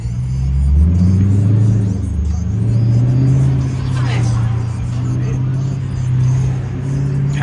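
A Dodge Challenger RT drives through downtown streets late at night, its low engine rumble loud and close from inside the cabin, swelling and easing with the throttle.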